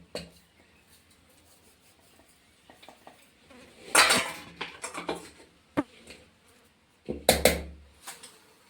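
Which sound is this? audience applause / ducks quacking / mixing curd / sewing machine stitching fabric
mixing curd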